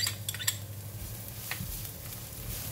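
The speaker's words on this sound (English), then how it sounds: "Stir fry the garlic until it's nice, fragrant and brown" Garlic stir-fries in hot cooking oil in a pan, a soft continuous sizzle close up, broken by a few light scrapes and clinks of a utensil against the pan, with no talking.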